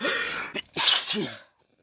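A single close, forceful sneeze with a sharp intake before it, then silence.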